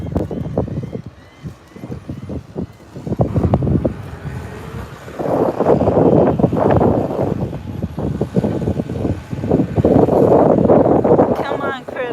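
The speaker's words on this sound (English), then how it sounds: "It's a little bit windy" Gusty wind buffets the microphone at a beach on Hutchinson Island at sunrise, rumbling in heavy bursts while a person talks through much of it.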